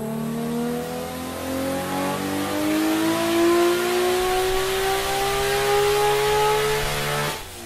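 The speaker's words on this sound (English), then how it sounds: "You gotta love the RB26 DETT. I love that motor." A Nissan RB26DETT engine in an R32 pulls hard on a dyno, its tone climbing steadily through one long loud rev before cutting off near the end.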